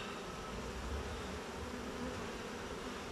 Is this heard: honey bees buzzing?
yes